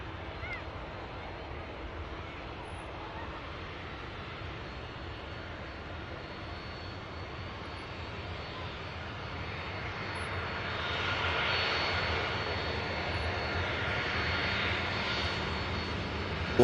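An airliner rolls along the runway at Manchester Airport, its engine roar steady and distant at first, then swelling slightly louder toward the end.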